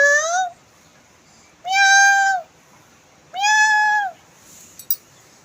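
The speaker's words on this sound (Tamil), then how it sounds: "பூனை வர பூனாச்சி வரா." A cat meows three times, each call clear, drawn-out and fairly close, separated by quiet pauses, with a couple of faint clicks near the end.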